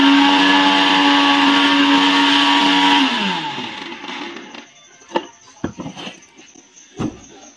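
An electric mixer-grinder runs loud and steady, grinding spices with turmeric, then winds down after about three seconds. Its whine drops away into quieter kitchen clatter and a few sharp knocks.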